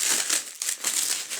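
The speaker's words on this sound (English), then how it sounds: "just going to cut off the foam" Foam packaging is cut away from a freshly powder-coated part of a 1983 Yamaha RS125 DX motorcycle, making close, rustling crinkles in quick, uneven bursts.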